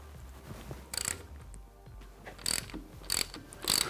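A hand tool and lever break the torque on a Toyota Corolla shock absorber nut, giving a few loud ratcheting clicks and metallic bursts in separate pulses between quieter mechanical shuffling. It is close and has no talk.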